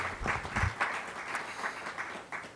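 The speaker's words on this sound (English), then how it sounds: "Let's give another big round of applause" Applause from the audience at a university student representative council investiture ceremony, a continuous round of many hands clapping, moderately distant and fairly soft, with no talking over it.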